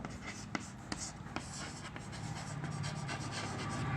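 Chalk or marker strokes on a classroom board while a comma is drawn, a few sharp scratchy taps and rubs, close and moderately quiet, with faint background noise and no clear speech.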